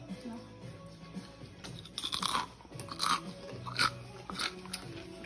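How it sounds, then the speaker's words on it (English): Crisp crunches from biting into crispy potato and carrot skins, several bites spaced through a few seconds, close and fairly loud over a low background hum. "Did you hear that crunch? That was me enjoying my taster."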